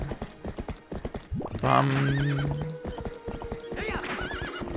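Horse Epona in the Zelda Twilight Princess video game, with rhythmic clip-clop hoofbeats throughout, a loud whinny partway through, and a brief spoken word in German-language play.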